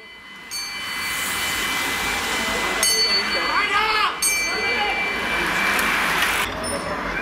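A hand bell rings to mark a lap during a bicycle race at Schifferstadt in 2016, sounding in a few bright strokes amid continuous crowd and loudspeaker noise at the roadside.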